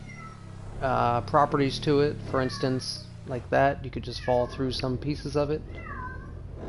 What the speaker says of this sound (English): I'm sorry if you could hear my cat meowing.